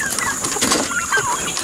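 Young turkeys crowd a small chicken house on a homestead, giving off several short chirps and clucks that overlap against a busy farmyard background.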